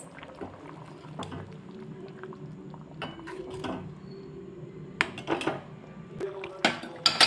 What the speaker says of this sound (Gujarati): હવે બધું મિક્સ કરી લઈશ